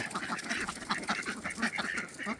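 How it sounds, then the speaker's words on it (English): Khaki Campbell ducks quack in a busy, overlapping chorus as they are let out onto a farm to graze, steady and fairly close throughout. "here's our second group of ducks to be released. Our khakis, come on out, guys"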